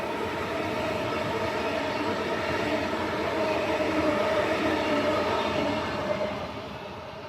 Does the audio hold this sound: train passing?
yes